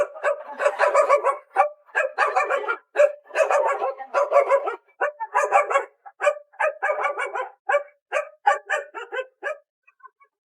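A dog barks repeatedly in quick bursts, loud and close, with short pauses between volleys, alone and without talk.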